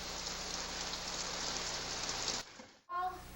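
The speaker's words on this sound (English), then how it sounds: "The rain doesn't help much, does it?" Steady rain pours down for most of the stretch, a dense even hiss of drops on a surface, then cuts off abruptly near the end before a brief burst of other sound.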